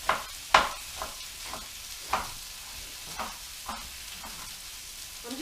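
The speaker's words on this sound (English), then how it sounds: "You can hear the chicken sizzling nice" Chicken frying in a pan with a light, steady sizzle, broken up by a series of sharp stirring or scraping knocks at irregular intervals, close up and fairly quiet.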